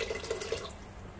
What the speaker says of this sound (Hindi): अब मैं इसके अंदर चिकन स्टॉक जो हमने मंदी बनाते हुए रेडी की थी वो डाल दूंगी।